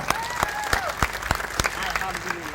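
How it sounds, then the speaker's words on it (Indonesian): A crowd at an Indonesian religious and national gathering gives sparse, scattered applause, with distinct individual claps standing out while voices and murmuring carry on underneath. "Tepuk tangan untuk Surabaya."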